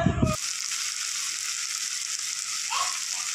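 Garlic frying in a pan with salt and turmeric, a short clatter at the start and then a continuous close sizzle, no one speaking.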